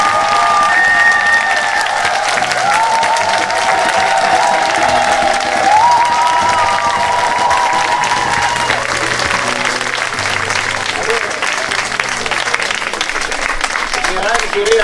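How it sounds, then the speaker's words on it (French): Sustained applause from a crowd at a parish end-of-year pastoral celebration in France, steady and dense for the whole stretch, with some cheering and voices mixed in. "Applaudissements, s'il vous plaît."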